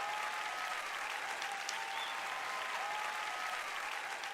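Steady applause from a crowd, heard at a distance, continuous and even for the whole stretch.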